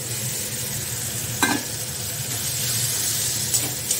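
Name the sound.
roasted sattu stirred into frying spice mix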